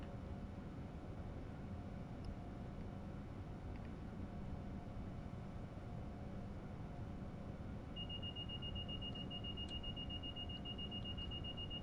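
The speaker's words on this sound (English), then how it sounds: "Right, so put it in suppression, stops the alarms." A train cab warning alarm in the Train Sim World 3 game on PS5, driving an Acela, comes in as a steady electronic tone partway through, held over a constant low rumble of the cab and engine, with no speech.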